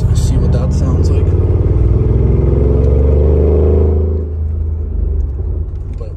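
A 2013 Mercedes G63 AMG with catless downpipes, new mufflers and exhaust valves held open idles with a loud, deep, throbbing burble, then the rumble drops back to a lower, steadier drone after about four seconds.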